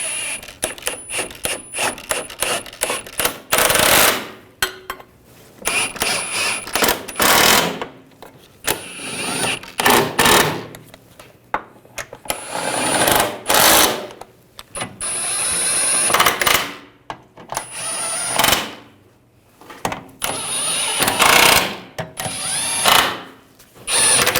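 A power tool snugs down the steering rack and lower control arm bolts on a 2009–2017 Volkswagen Tiguan in short, repeated whirring bursts separated by pauses and small metallic clinks.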